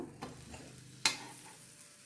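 Mushroom cheese sandwich frying in butter on a pan: a faint, soft sizzle runs throughout, broken by a couple of light spatula taps and scrapes, with no talking.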